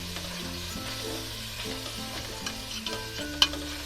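Chicken chowmein with chilli and tomato sauce sizzles in a pan, with steady frying hiss and scattered stirring clinks, close and fairly quiet, without voices.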